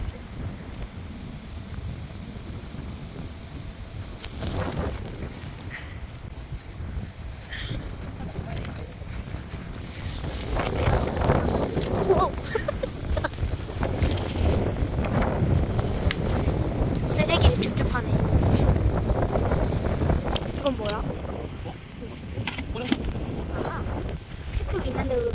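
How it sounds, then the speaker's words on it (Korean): Strong wind gusting at an old campsite, a steady rushing roar that builds and buffets the microphone, with people talking over it. "바람 너무 센데?"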